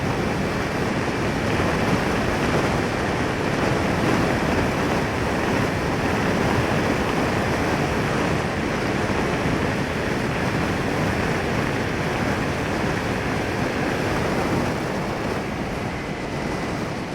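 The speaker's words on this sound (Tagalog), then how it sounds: "ang lakas ng hangin" A strong wind roars without a break over a ride around Baguio City, loud and unchanging rushing noise that covers everything, with no voices.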